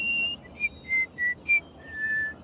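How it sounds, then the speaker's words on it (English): A short whistled melody from Fallout 3 of five or six clear, separate notes, descending D, C, B, A, the last one held longer, with a quiet background. "This just happens to be the same sequence Betty whistles"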